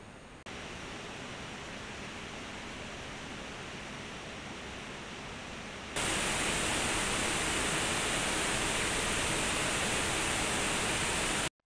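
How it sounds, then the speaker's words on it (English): Cooling fans of an ASUS ROG Zephyrus G15 2022 gaming laptop in turbo mode under load, a steady broadband whoosh like rushing air that steps up sharply louder halfway through and holds, with no talking. "the fan noise on turbo mode when the laptop is pushed is loud AF"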